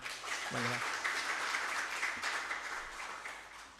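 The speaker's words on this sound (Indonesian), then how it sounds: "beri tepuk tangan untuk kita semua" Audience applause fills a university hall at a scholarship information session with about 500 attendees, a steady wash of many hands clapping throughout, fairly distant and moderately quiet, with a brief voice near the start.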